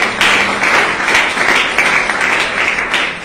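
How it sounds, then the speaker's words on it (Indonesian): Church congregation clapping in worship during an Indonesian sermon, a loud, close, continuous patter of many hands with soft voices beneath, swelling in a few rhythmic surges. "Tepuk tangan bagi Tuhan"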